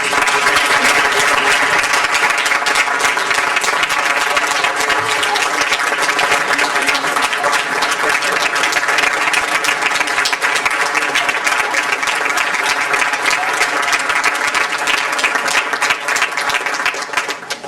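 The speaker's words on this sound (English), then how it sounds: "Would you please just give one more round of applause?" Sustained applause from an audience at a school board of education meeting, honoring a teacher from an alternative high school; dense, steady clapping fills the whole stretch at close range with no pause.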